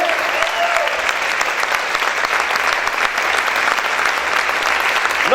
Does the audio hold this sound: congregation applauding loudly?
yes